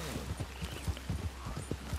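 Horse hooves clip-clop in a rainy scene in the Red Dead Redemption 2 video game, a quick irregular run of soft, close hoof strikes over a steady low background hum.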